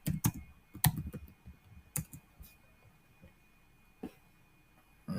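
Fingers tap on a computer keyboard in short, irregular bursts of close clicks separated by quiet gaps, soft overall, with no speech.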